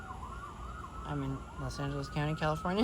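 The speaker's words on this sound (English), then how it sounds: "Excuse the sirens." A siren wails faintly in the background with a rising and falling tone while a person talks over it.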